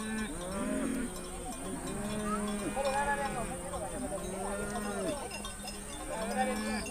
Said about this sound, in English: The killing fields of the night are transformed into places where cattle may safely graze.